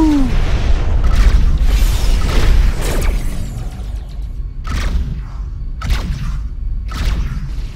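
Missile explosions in the space combat game Rebel Galaxy: a dense, heavy rumble of blasts in the first three seconds, then several sharp separate booms, loud and close over a steady low drone.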